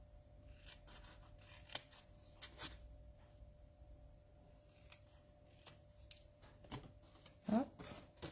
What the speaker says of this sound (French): Là, on coupe de chaque côté et on va couper un petit peu en biseau pour former notre boîte.